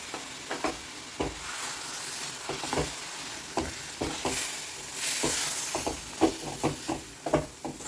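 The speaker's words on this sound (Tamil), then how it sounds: "நல்லா கலந்து விட்டுடலாம்." A sweet rice-flour mixture with cooked moong dal is stirred in a hot pan, giving a steady sizzle broken by repeated soft scraping knocks of the spoon against the vessel, close and moderately loud, with no talking.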